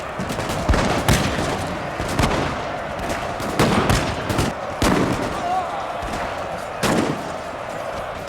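Musket gunfire rattles across a Napoleonic battle at Leipzig in the Total War video game, with sharp volleys and scattered cracks popping irregularly over a dense background of battle noise, beneath a narrating voice.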